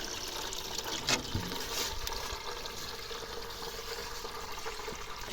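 Water from a rain barrel is poured onto a vegetable garden. It makes a steady, faint splashing trickle that goes on without a break. One brief louder splash comes early, and no one speaks.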